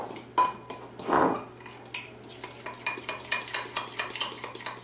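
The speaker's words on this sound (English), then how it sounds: "we're just going to mix this together until it's smooth" A ground mustard mixture for meatloaf being stirred until smooth, with a utensil clinking and scraping against a bowl in quick repeated strokes, close and fairly loud, a couple of louder knocks near the start.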